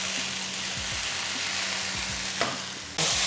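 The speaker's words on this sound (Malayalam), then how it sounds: "നമ്മൾ വേവിച്ച കാ ഇതിലേക്ക് ഇട്ട് നന്നായിട്ട് മിക്സ് ചെയ്ത് ഒരു 5 മിനിറ്റ് സ്ലോ ഫയറിൽ നമുക്ക് ഇങ്ങനെ ഒന്ന് കുക്ക് ചെയ്തെടുക്കാം." Cooked raw plantain is stirred into a pan of frying ingredients for a Kerala stir-fry, sizzling steadily while a spatula scrapes in repeated strokes, with a louder sizzle burst near the end.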